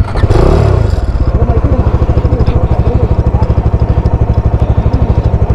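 A motorcycle engine starts up, then idles loudly and close by with a fast, even thumping beat and no voices.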